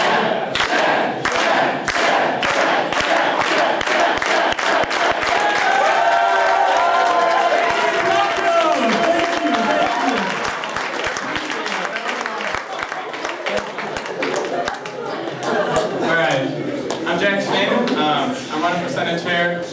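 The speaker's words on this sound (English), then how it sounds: "in 3 seconds, I want everyone to start chanting, Jack, Jack, Jack, Jack. Start clapping, all right?" Student crowd at a college student government candidates event chanting a name and clapping in rhythm, loud and close, with regular sharp claps running throughout under the voices.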